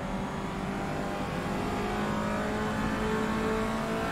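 A Peugeot 208 GTI Cup racing car engine in rFactor 2 hums steadily and continuously, a mid-pitched drone with slight revving, fairly loud and unbroken.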